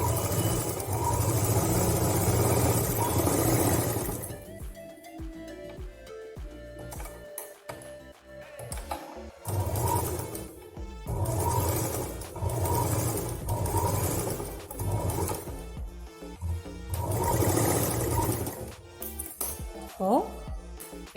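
A sewing machine stitches cloth for a small handmade purse in bursts of rapid mechanical whirring, stopping and starting repeatedly between pauses, with someone talking in between.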